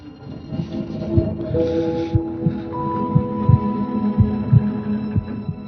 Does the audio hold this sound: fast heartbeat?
yes